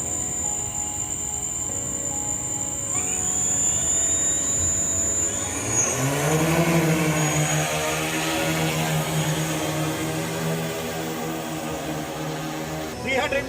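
A commercial drone arms its motors and lifts off in India, a rising whine that swells into a steady, loud multi-rotor drone with buzzing harmonics, continuing close by as it climbs.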